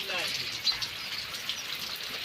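Soft, steady patter of rain falling in a village, a faint hiss with occasional drips, quiet and even throughout.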